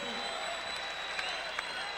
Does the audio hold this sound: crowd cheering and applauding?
yes